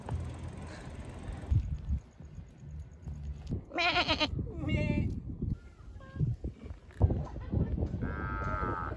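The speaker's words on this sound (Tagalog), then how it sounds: "There's a cow." Near an art exhibition, cattle moo and goats bleat in several drawn-out calls, some loud and close, with people talking and background crowd noise between them.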